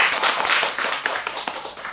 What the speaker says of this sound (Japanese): 皆さん大きな拍手をお願いします